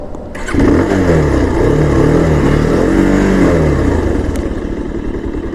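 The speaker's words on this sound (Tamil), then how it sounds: "இப்போ ஸ்டார்ட் பண்ணிக்கலாம் வண்டியை" A Bajaj Pulsar 220F motorcycle engine starts close by, catching after a brief crank and settling into a loud, steady idle with some revving, no talking.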